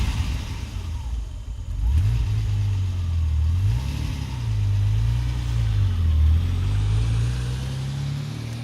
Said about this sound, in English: We hear a smooth, fancy car engine start and rev.